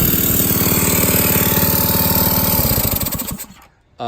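An air-driven diaphragm pump on a soft wash setup runs with a loud, steady rapid pulsing chug that holds for about three seconds before cutting off abruptly.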